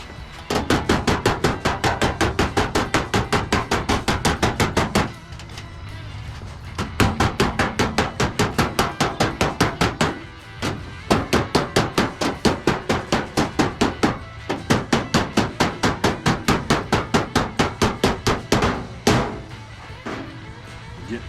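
Steel hammer striking a dolly while shaping a car door skin along its body line: rapid, steady bursts of sharp metallic taps, close and loud, broken by a few short pauses, with no talking.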